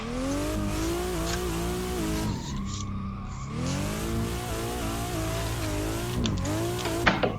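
A BMW drifting around the Bihoku Highlands track in the racing game Assetto Corsa, its engine droning and rising and falling in pitch with a brief lift-off dip, over a sustained hiss of sliding tires.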